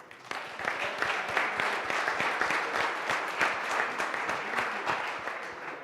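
An audience at a CEO panel event applauding, a dense, even roar of many hands clapping that holds steady for several seconds without voices.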